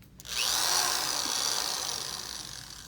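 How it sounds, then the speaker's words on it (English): A surgical drill used in a lumbar laminectomy and discectomy is test-run in a single steady high-pitched whir of about three seconds. It starts abruptly, stays close and loud, and slowly fades a little at the end. "So we always test the drill when it's loaded up."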